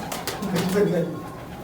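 Soft pigeon cooing nearby, low and throaty, mixed with a voice talking.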